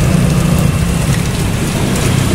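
Strong jet of water spraying from a modified type 135 water pump washing a truck, a loud continuous hiss and splatter with no pauses.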